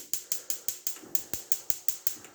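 Rapid, evenly spaced clicking of a stove burner igniter as a gas burner is turned on, about a dozen sharp ticks in a little over two seconds, close and fairly quiet.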